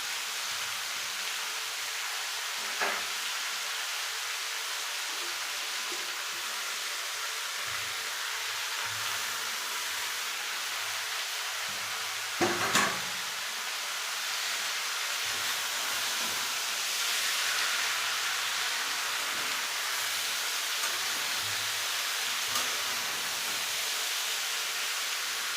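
Bottle gourd frying in a pan for lau chingri, a steady broadband hiss and sizzle lasting throughout at even loudness, with a few faint clinks.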